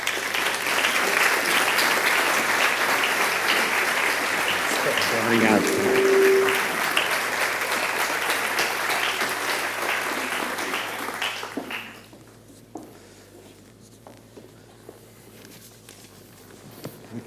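Audience applause for a guest at a talk event in Porto, a dense, loud, sustained clapping that fades out near the end, followed by a quieter room with a few scattered claps and a brief word of thanks.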